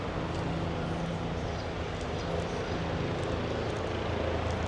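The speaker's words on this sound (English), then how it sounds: "There are the helicopters." Helicopters flying over Cairns in far north Queensland, a steady, fairly loud rotor-and-engine drone filling the whole stretch with no talk over it.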